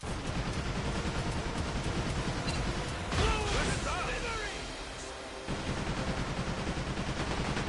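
Ship guns in a pirate video game keep up dense rapid gunfire with thumps of cannon shots. Crashing impacts break in midway, and someone talks over the noise.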